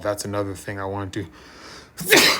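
A single sharp sneeze bursts out after a stretch of close, conversational speech, loud and noisy against the quieter talk before it.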